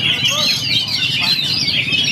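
Kacer (magpie robin) songbirds chirp and warble continuously at a bird singing contest, with bright, rapid overlapping calls and a murmur of crowd noise underneath.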